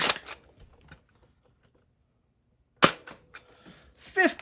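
A clear 2010 Nerf Deploy CS-6 blaster fires a dart with a sharp, close snap after near silence, followed by a few softer mechanical clicks and rattles.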